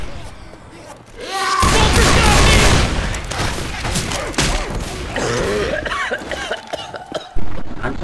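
Heavy shotgun blasts and chaotic combat in the zombie shooter Left 4 Dead 2, loud, crowded bursts of fire mixed with crashes and shouting voices, easing briefly before another sharp burst near the end.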